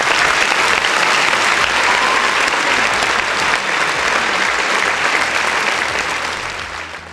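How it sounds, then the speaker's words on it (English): Sustained applause from an audience, loud and dense clapping that carries on steadily before fading slightly at the close. "One more round of applause for the folks in the chat."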